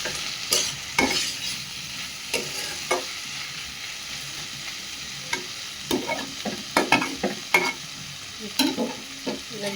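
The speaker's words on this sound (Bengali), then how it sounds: "ভালো করে এগুলো ভেজে নেব" Vegetables frying in an open pan on a home stove for a tiffin snack, with a steady soft sizzle broken by repeated scraping and clatter of a spatula stirring, moderately close.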